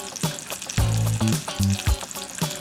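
Steady crackling sizzle of bacon frying in a pan, close up, with a few low clanks and tones over it.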